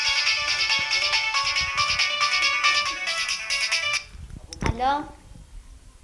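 A telephone rings with a bright repeating electronic ringtone for about four seconds, then stops, and a voice speaks briefly afterward.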